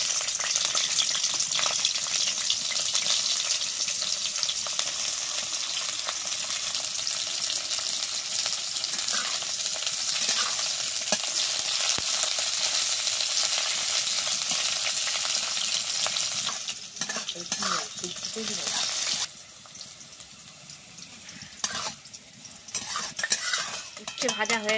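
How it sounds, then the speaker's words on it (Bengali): Bitter gourd fries in hot oil in a wok, a continuous bright sizzle with frequent stirring scrapes and utensil clinks, easing slightly toward the end as the pieces are turned. "উচ্ছেটা দিয়ে দিচ্ছি কড়ার তেলে।"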